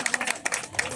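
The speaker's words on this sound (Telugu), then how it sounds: "క్లాప్స్ కొట్టాలి, క్లాప్స్ కొట్టాలి" At an alumni reunion gathering of former students, an audience breaks into a brief burst of hand clapping, with scattered claps mixed among voices.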